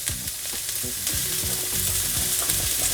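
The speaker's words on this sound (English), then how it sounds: "And then in with our onions. And we're gonna caramelize these down" Chopped onions sizzle in hot avocado oil as they start to caramelize, a loud, close hiss broken by repeated scraping and clattering strokes of a stirring utensil.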